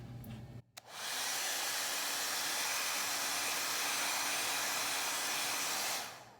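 Hair dryer blowing hot air on a plastic container to loosen stickers, switched on after a click and running as a loud, steady, close whooshing roar for several seconds before shutting off.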